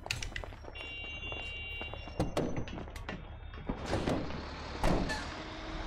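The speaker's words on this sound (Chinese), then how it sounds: "我先把这个货车先移走好了。" Heavy truck in GTA 5 zombie mode moving through the game world, a steady low engine rumble with thumps, a brief air-brake hiss and scattered clunks rising and falling over about six seconds.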